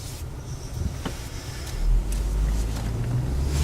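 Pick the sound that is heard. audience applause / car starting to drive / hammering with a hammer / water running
car starting to drive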